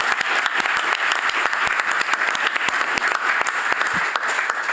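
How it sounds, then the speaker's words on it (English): An audience at a PhD defence applauds steadily, a dense patter of many hands clapping at close range throughout, with one slightly sharper clap near the end. "Please join me in giving them a big round of applause for that."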